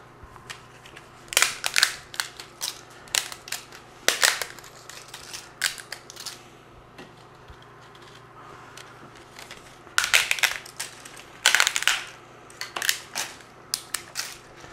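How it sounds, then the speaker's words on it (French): Dry lasagna sheets snapped into pieces by hand over a sauce for an Italian dish; sharp irregular cracks and crunches come in scattered clusters, with quieter gaps between bursts. "On va prendre nos lasagnes, on va les casser tout simplement."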